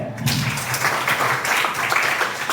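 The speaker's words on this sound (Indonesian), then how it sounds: "beri tepuk tangan untuk Kaizen." An audience at an indoor competition for teacher ambassadors claps together, a diffuse, steady roll of many hands that swells briefly and holds at moderate volume.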